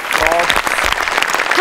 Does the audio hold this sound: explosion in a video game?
no